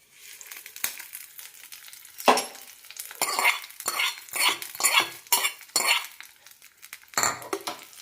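Mustard seeds are tempered in hot oil for coconut chutney, crackling and popping in irregular bursts with scraping pan clatter and a steady sizzle, close and fairly loud.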